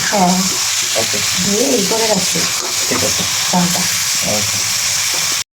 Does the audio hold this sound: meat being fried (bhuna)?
yes